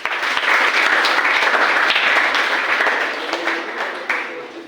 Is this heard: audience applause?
yes